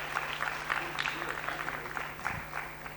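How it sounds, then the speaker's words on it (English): Scattered, light clapping from a conference audience after an ophthalmology presentation on cataract surgery complications, uneven and fairly faint, with a low steady hum underneath. "I request a round of applause for such a presentation"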